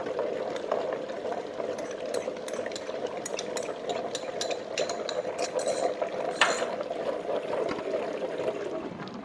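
A 150-watt tabletop wet grinder with a rotating stone grinds soaked urad dal and rice, giving a steady low churning drone with light wet clicks and scrapes over it, continuous and fairly quiet.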